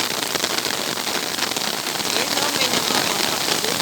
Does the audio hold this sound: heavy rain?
yes